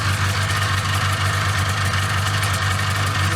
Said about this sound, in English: Typical Polaris engine, noisy of course.